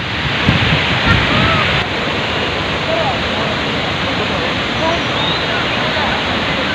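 Water released from a dam rushes in a dense, continuous roar close by, with voices audible over the torrent early on.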